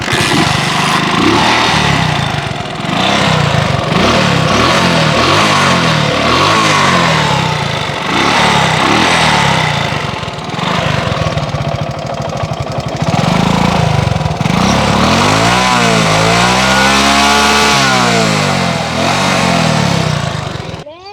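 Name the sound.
Honda S110 motorcycle engine running and revving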